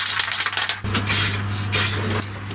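Short close bursts of aerosol test lacquer hiss onto a carbon fiber part over epoxy tooling gel coat, two sharp sprays separated by a brief pause, with a faint hum beneath.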